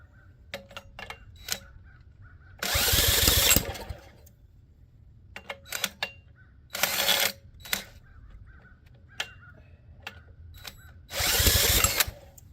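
A drill cranks a scrapped 3hp dual-output Tecumseh engine that won't fire, with three loud whirring bursts of a second or so each, separated by quieter clicks and clanks of handling up close.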